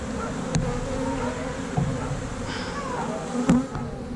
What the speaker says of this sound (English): bees, they're building comb.